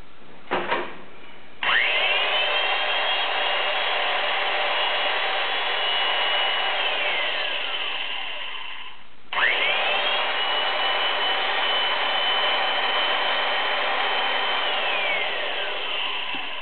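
Motor of a Ridgid 700 pipe threader running loud and close, a steady high whine that starts up, winds down briefly, then spins back up again.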